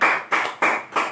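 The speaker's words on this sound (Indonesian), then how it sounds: "tepuk tangan untuk Seko" A classroom of young pupils claps for a classmate in a steady, rhythmic pattern of about four loud, even bursts, close and dense, with no talking underneath.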